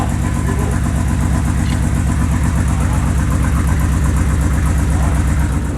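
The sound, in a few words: 1965 Marlin engine running on first startup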